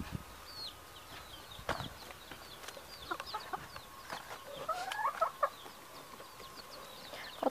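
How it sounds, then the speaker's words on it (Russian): Hens and two young roosters cluck and chirp around a backyard flock, with short overlapping calls near and far, scattered rustles, and a few sharper squawks standing out from the steady farmyard murmur. "Вот эти два петушка не отходят от курочек."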